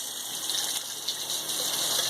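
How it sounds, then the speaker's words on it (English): Hot water runs from a kitchen tap for making coffee, a steady close hiss that gushes evenly with no pauses. "Run the hot water."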